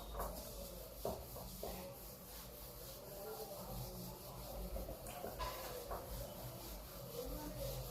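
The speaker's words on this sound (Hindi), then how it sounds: "मैं इसको रब कर देता हूँ" Writing is wiped off a board during a physics class lesson. Soft, faint rubbing strokes come in uneven bursts over a low steady background hum, with no one speaking.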